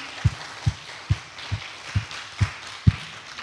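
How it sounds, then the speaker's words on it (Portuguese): A church congregation claps in a slow, even rhythm, seven distinct claps spaced about half a second apart, fairly close and clear, with no talking over them. "Vamos dar uma salva de palmas para Cleide?"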